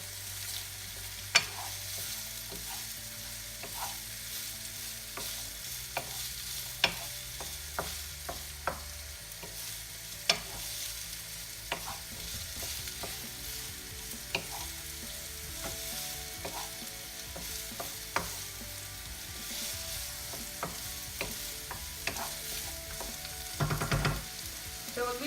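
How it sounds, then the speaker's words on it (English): Food sizzles steadily in a hot pan, with occasional pops, crackles and stirring scrapes, fairly quiet and continuous. "We're just frying them off for about 5 minutes."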